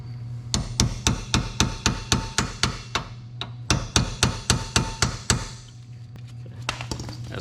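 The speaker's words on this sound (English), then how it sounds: "So I'm just going to bend this tab up, and yes, I'm aware this is not a ball peen hammer" A non-ball-peen hammer strikes metal in rapid, evenly spaced blows to bend up the rear axle nut tab on a 2001-2005 Honda Civic, two bursts of about a dozen sharp close clanks each.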